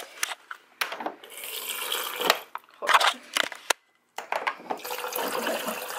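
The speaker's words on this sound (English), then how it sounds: "I just fill it up with water." Water runs into a container from a tap in bursts, a splashing, hissing flow that stops and restarts, heard close and alone.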